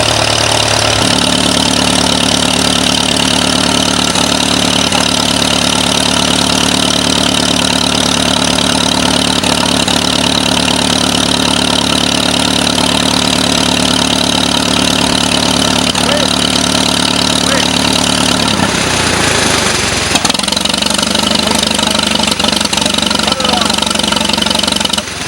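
A 1940 Farmall M tractor engine runs loud and close in a steady idle for about eighteen seconds, then briefly cuts out and restarts with a rougher, shifting tone before settling again.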